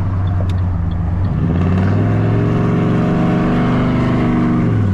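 A loud turbocharged Chevrolet 6.0 truck engine revs hard with a sustained, rising mechanical roar and blow-off valve, filling the whole clip; no talking.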